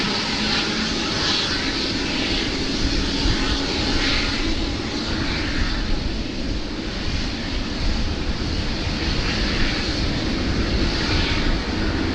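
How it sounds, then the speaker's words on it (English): An Emirates jet airliner takes off from runway 16 right at a rainy Sydney Airport, bound for Bangkok, its engines producing a loud, sustained roar that holds steady and continuous throughout, close and alone without voices. "this is Emirates flight 2510 heading up to Bangkok, Suvarnabhumi"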